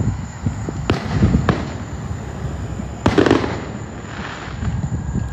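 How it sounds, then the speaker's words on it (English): Fourth of July fireworks bursting outdoors, with two sharp loud bangs followed by crackling and rumbling pops, a steady high hiss running underneath throughout. "I don't even care about his fireworks"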